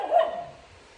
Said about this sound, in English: we have all dogs barking now